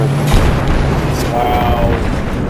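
Enemy gunfire and booming blasts in Battlefield 3 combat, a dense, loud wash of explosions and shots close by, with a voice speaking over the noise.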